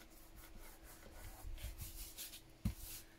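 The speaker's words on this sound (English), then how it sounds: "Need to rub off all that excess glue." Faint, close rubbing as a fingertip or tool works excess glue off a journal page on a desk, quick scuffing strokes with a soft knock near the end.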